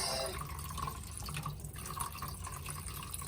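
Whey runs steadily from feta curds hung in cloth over a pot, a continuous close trickle and patter with no voices.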